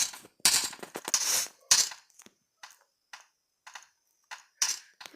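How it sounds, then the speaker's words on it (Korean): Sharp bursts of gunfire in a battle royale video game come in several separate clusters with short silent gaps between them, four shots heard. There is no talking. "네 개나 들리네요, 총소리가."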